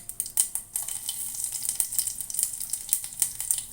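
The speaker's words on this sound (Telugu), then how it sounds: "పోపులు వేగుతున్నాయి కదా" Spices and chillies crackle and spit as they fry in hot oil for a South Indian dal tempering, a steady fine sizzle with scattered sharp pops close by.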